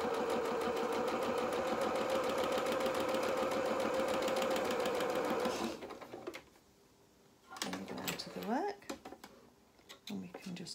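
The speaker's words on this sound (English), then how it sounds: "I'm just going to zigzag over this edge" A sewing machine runs a steady zigzag stitch along a fabric edge on a small shirt, buzzing continuously for several seconds before stopping, followed by quieter handling noises and talk.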